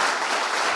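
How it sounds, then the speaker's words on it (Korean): Audience applause fills a hall at the 2nd Limsungki Researcher Award Ceremony, a steady, dense wash of many hands clapping at once, loud and close for a brief moment with no break. "이럴 때 박수 한번 보내주시면"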